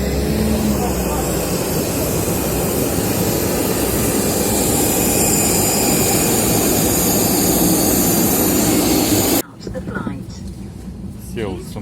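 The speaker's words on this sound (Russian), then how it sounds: "Airbus A320 у нас." Jet engines of an Airbus A320 airliner roar loud and close at an airport, a steady broadband whine that cuts off abruptly near the end and leaves quieter background sound.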